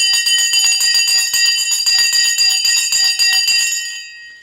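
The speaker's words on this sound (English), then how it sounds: "The bell is now gone." A stock market opening bell rings in a rapid, loud, sustained metallic clatter for a few seconds, then stops abruptly and fades out.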